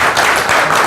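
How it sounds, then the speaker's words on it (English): An audience applauds at a real estate seminar, a steady wash of clapping from a crowd for the short moment. "You can't walk away while they're applauding you."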